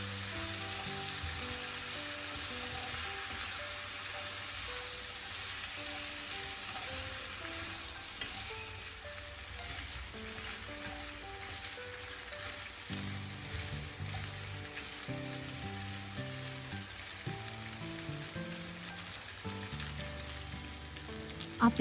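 Pasta is stirred into a sizzling chilli tempering in a pan, giving a continuous loud frying hiss with stirring scrapes. Background music plays throughout.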